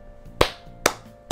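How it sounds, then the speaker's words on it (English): Three slow, sharp hand claps land about half a second apart, each a crisp close smack that dies away quickly into near silence. "All I can do is clap it up, bro."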